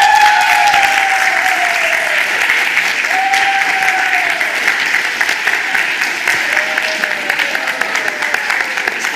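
Loud, sustained applause from an audience at a primary school elocution competition final, dense clapping filling the whole stretch with a few whistle-like tones gliding over it.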